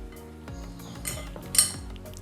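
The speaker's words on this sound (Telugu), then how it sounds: "వీటిలన్నింటిని ఒకసారి మిక్స్ చేసుకుందాం" A spoon stirring leftover rice with garlic, salt and chili in a bowl: a few close scrapes and clinks of metal against the dish, one brighter clink near the end.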